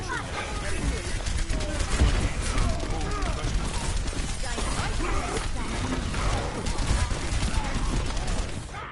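Steady gunfire in an Overwatch scrim, with busy, overlapping shots and impacts at moderate volume throughout while players talk over it.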